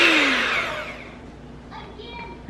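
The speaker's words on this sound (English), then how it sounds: "Now we're just going to mix these 4 ingredients together." An electric mixer whirs down from a high whine as cake mix, eggs, vegetable oil and water are blended for a tres leches cake, fading into a quieter low hum with faint clinks.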